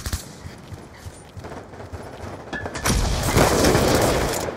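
Gunfire in a Call of Duty match comes as rapid bursts of shots and booms, first scattered and then thickening into a loud, sustained volley toward the end.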